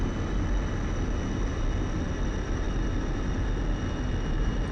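Jet aircraft coming in to land in a flight sim with the air brake deployed and power eased back, a steady, even engine roar and airflow hiss at moderate level with no talk.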